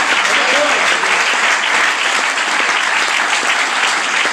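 A church congregation claps steadily and loudly together, a dense, continuous wash of applause filling the room for several seconds during a worship service.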